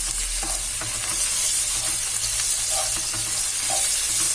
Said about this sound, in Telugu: ఈ అల్లం వెల్లుల్లి ముద్ద కూడా బాగా వేగిపోవాలి. ఉల్లిపాయల్లో చక్కగా వేయించుకోవాలి.